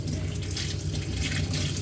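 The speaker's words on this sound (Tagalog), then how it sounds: "Hugasan natin muna po ang spinach." Water running from a kitchen tap while spinach is rinsed, a steady close splashing stream filling the sink without pause.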